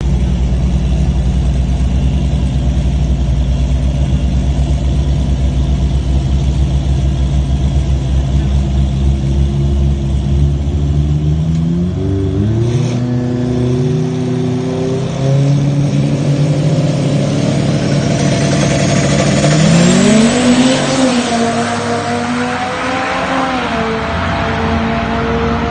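Turbocharged drag race car on a full-throttle pass, heard from outside: a loud, steady engine roar that drops briefly, then climbs again in rising pitch sweeps as it accelerates and shifts, with no voices.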